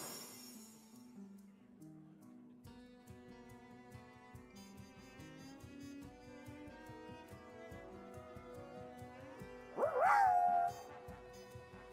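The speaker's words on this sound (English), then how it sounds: "I've been barking at this tree all day, but it doesn't seem to be doing anything" A dog in a video game barks at a tree, giving a single loud yelping bark late in the clip over steady background game music.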